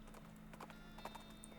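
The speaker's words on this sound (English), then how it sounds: "Do your ghost horse noise" In the West of Loathing video game, a ghost horse gives faint hoof clip-clops, a few soft irregular knocks over a steady low hum, quiet and distant.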